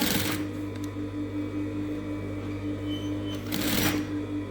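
A sewing machine stitches a shirt collar with a steady mechanical whir, louder bursts of stitching at the start and again near the end, and no voices.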